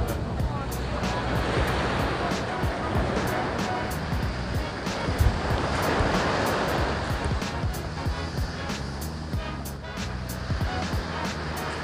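Ocean waves wash steadily against the rock arch at Cabo San Lucas, Mexico, a continuous broad surf roar without breaks.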